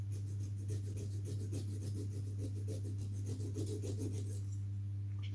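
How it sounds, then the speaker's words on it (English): Rapid back-and-forth scratchy rasping of abrasive roughing up the small metal motor of a model flying boat, a steady repeated scrubbing rhythm over a constant low electrical hum. "It's worth just roughing that metal up slightly just for good measure."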